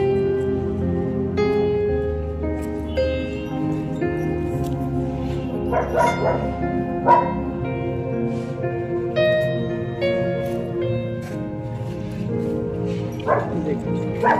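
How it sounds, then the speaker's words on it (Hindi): Several dogs bark and yip repeatedly in a forest where a group of rabbits feeds on dry leaves. The barks come in scattered bursts over a dense, steady background. "कुत्ते पूरा भौंक रहे हैं।"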